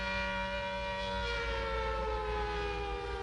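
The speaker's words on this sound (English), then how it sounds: "It's the special effects siren!" A single long, steady siren wail holding its pitch, loud and unbroken throughout.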